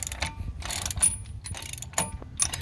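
A ratchet clicking in repeated bursts while tightening wheel bearing bolts on a 2002 Chevrolet Tahoe 4x4, the metallic ratcheting loud and close with brief pauses between strokes.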